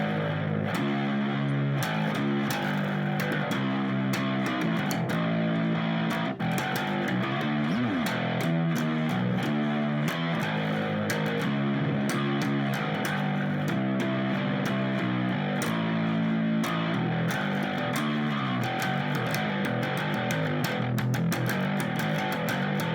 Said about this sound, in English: for the choruses we put it through an octave unit, a POG I believe it was, 2 octaves down with distortion on an 8th string